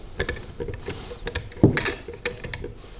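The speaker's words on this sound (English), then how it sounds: "use your 9/16 wrench and your 7/32 Allen key and tighten them both down" Tightening bolts on a mower axle with a 9/16 wrench and a 7/32 Allen key while installing a Ryobi 40V 21-inch mower kit: a close series of sharp metallic clicks and ratcheting taps in an irregular rhythm.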